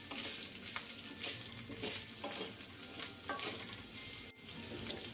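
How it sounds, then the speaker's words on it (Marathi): Already-boiled potato cubes sautéing in a pan over low-medium flame, a soft continuous sizzle with periodic scraping stirs and one brief knock, fairly quiet and close. "हे ऑलरेडी उकडलेले आहेत, फक्त यावर थोडासा क्रस्ट यावा इतपतच आपण परतून घेणार आहोत"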